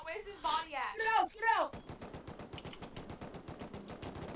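Rapid automatic gunfire during a raid in the video game Rust, a steady stream of sharp shots lasting several seconds right after a brief burst of speech.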